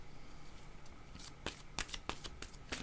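A deck of tarot cards is shuffled quietly, and a series of soft riffling snaps speeds up toward the end against a faint, low background.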